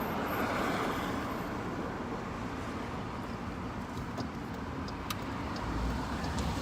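Cars pass along a road at night, a steady broadband wash of tyre and engine noise that swells and fades slightly as vehicles go by, with a few faint clicks on top.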